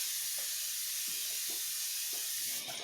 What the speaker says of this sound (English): So I'm just going to go ahead and apply and spray it on my face.